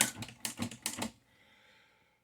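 Typing on a Torpedo Dynacord S typewriter: about half a dozen sharp, close key strikes clack in a quick uneven burst, then fade into a faint mechanical ring and near silence.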